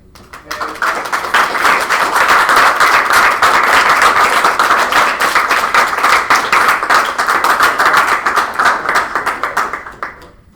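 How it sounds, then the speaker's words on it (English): A room of lecture attendees clapping for a student named Andy, loud dense applause that builds quickly, holds steady for several seconds and then fades out. "Should we clap for Andy?"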